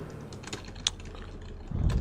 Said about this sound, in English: if you heard the clacking there, that was from me spamming the 5 button